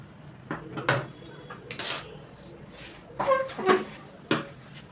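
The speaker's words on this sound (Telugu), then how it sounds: "ఇప్పుడు ఎలా అయితే మార్కింగ్ వేసుకున్నానో అలాగే కట్ చేస్తున్నాను" Blouse fabric being cut along chalked markings with scissors, giving a few short, close metallic snips and clacks separated by brief pauses, with no talk over them.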